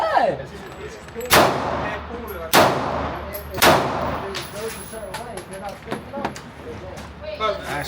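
Gunshots at an outdoor gun range: three loud, sharp reports about a second apart, each ringing out briefly, with people talking over and between the shots.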